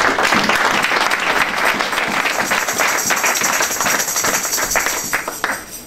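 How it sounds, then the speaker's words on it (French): A church congregation breaks into loud, sustained applause for several seconds, dense overlapping clapping that fills the space and tapers slightly at the end. "On peut applaudir s'il vous plaît pour la gloire."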